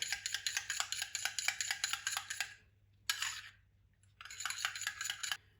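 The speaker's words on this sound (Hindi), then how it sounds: "जो वाइट हमने अंडे का निकाला है। अब इसको अच्छी तरह मिक्स कर लेंगे।" Spoon whisking egg white mixture in a bowl, a rapid run of bright clinking taps for a couple of seconds, a short burst, then another steady stretch of quick metallic strokes; no voices.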